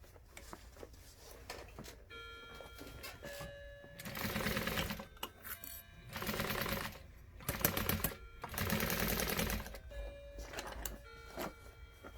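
Sewing machine running in bursts as it stitches a quarter-inch seam around a handbag, with loud stretches of stitching separated by quieter pauses and faint background tones.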